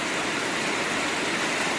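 Steady broadband hiss of heavy rain pouring down all around during a thunderstorm, continuous and even with no talking.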